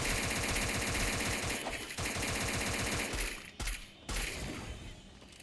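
Rapid automatic gunfire from the Free Fire mobile battle game, loud and dense with continuous rattling bursts that cut out briefly twice near the end.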